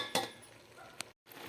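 A lid set down on a pan of spinach cooking for a Marathi palak bhaji, giving a short metallic clink and clatter near the start, followed by a second small tap before a brief silence.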